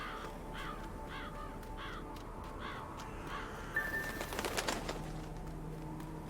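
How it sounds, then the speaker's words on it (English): In the Secret World Legends video game, a crow caws about six times in a steady, evenly spaced series at moderate distance over a low ambient hum, followed by a brief burst of clattering game effects. "Follow the birds again."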